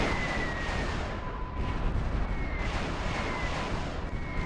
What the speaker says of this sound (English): They're just shelling any forces that come into this area.